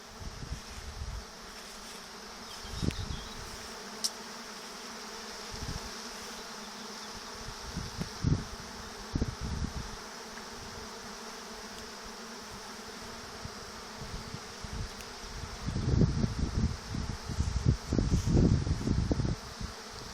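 A swarm of honeybees buzzes steadily at an apiary, a dense continuous drone with louder passes of bees flying close to the microphone, especially near the end, alongside light rustling.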